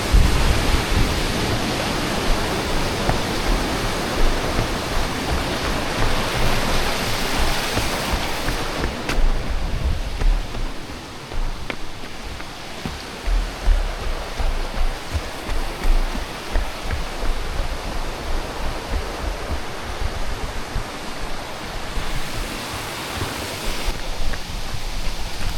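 River running beside a boardwalk on a running route, a steady, loud broadband rush of flowing water that holds constant throughout with no voices.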